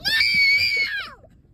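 A baby lets out a single loud, high-pitched scream lasting about a second, then it trails off into quiet background.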